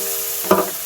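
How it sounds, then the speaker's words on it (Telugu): Dried prawns fry in a pan over a constant hiss of oil, with one brief louder scrape or crackle from stirring. "ఇప్పుడు ఎండ్రాయిలు వేయించేసుకుందామండి"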